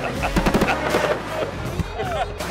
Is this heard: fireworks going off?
yes